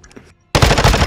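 Rapid automatic gunfire in the Modern Warfare II video game, erupting suddenly after a brief near-silence and continuing as a loud, dense burst of close shots.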